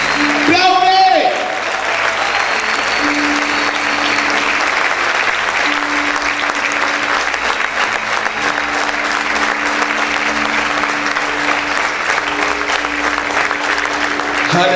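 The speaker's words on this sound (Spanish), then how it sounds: "¡Aplaude!" Church congregation applauding loudly during a Spanish-language sermon, a sustained wall of clapping that runs steadily throughout, with a sharp shout or cry near the start and a steady tone sounding underneath.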